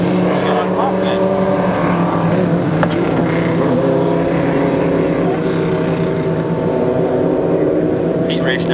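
Dwarf cars roaring off at the start of a heat race at Barona Speedway, a dense continuous engine drone from several cars, loud and sustained throughout.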